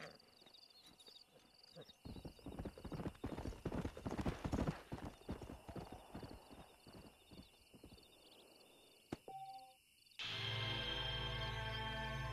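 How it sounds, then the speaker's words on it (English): Horses gallop in the Red Dead Redemption video game, a rapid rhythmic clip-clop of hooves that builds and then fades, with insect chirps in the background and a louder ambient wash near the end. "This horse has some mad good stamina, too."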